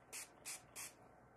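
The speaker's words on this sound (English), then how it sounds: "I like to get out my sea salt spray and just play with those ends" Three quick, close bursts of sea salt spray hiss onto hair in an even rhythm, each short and crisp over a quiet room.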